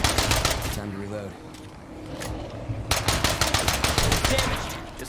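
Pistol gunfire in a video game, a burst of rapid, loud shots at the start and again through the second half, with a voice talking over part of it.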